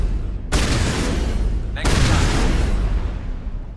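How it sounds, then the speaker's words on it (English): Heavy gunfire with poison rounds in Mass Effect 1 Legendary Edition, sustained dense blasts starting abruptly and renewing partway through, loud and continuous with no talk. "Is it because I'm shooting them with poison bullets?"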